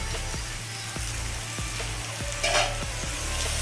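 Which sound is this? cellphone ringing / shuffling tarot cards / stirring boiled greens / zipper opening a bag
stirring boiled greens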